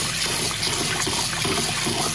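Sweet rice being rinsed with water, a steady wash of running, splashing liquid that fills the short clip without pause, close and fairly loud with no talking.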